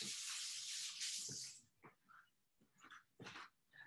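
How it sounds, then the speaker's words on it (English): Hands washed under a running kitchen tap, a steady rush of water for about a second and a half, then brief splashes and rubbing sounds as the flow stops. "I'm going to wash my hands."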